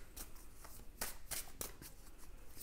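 Tarot-style cards are drawn and slap down, scattering, a few soft papery flicks and shuffles, close and faint.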